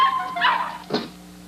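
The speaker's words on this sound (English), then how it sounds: "Crazy dog." A dog barks indoors in a short burst, one or two sharp yips ending in a low whine, fairly close and alone.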